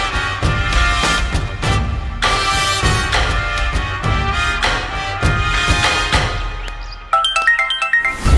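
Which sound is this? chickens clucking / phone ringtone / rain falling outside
phone ringtone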